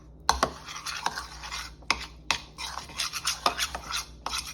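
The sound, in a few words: mixing wet cookie dough ingredients with cinnamon in a bowl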